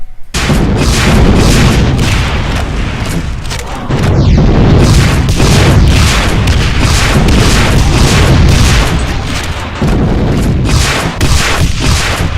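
Repeated heavy cannon blasts from the Behemoth Cannon in a Doom mod, a loud booming barrage of closely spaced explosive shots with short gaps, continuing throughout with no talking.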